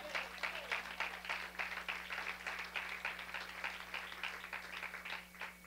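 A congregation at a Spanish-language prayer service claps together in a rhythmic, moderately quiet burst, individual claps distinct over a steady low electrical hum.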